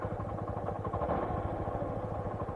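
A motorcycle climbs a narrow hill road on the way to Garang Hill in Maasin, Iloilo, its engine a steady, close, low thrumming drone with no voices.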